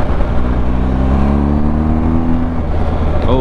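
A 2022 BMW R 1250 GS TE Triple Black motorcycle accelerates under throttle, its boxer engine droning loud and close with a steadily rising pitch and a touch of wind.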